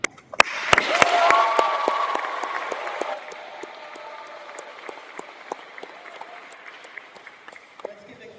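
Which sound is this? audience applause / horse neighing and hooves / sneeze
audience applause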